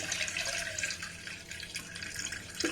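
Rice-washing water being poured off in a kitchen, a light trickling splash of liquid running out, fairly quiet and continuous, with a small clatter near the end.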